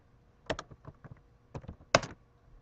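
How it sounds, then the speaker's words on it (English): Someone types code on a computer keyboard in short clustered bursts of crisp clicks, with a loud cluster near the end, close and with no talk over it. "I can just start typing the method name and then hit enter"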